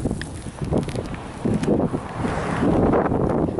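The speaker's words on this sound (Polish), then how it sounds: "Bardzo wieje, więc nie wiem, czy będzie dobrze słychać." Strong wind buffets the microphone outdoors on a winter day near ice, a continuous rough roar that surges and eases, with no talking.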